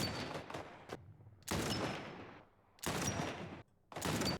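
Sniper rifle shots in The Last of Us, three or four loud sharp reports spread over a few seconds, each followed by a short ringing decay, with no talking over them.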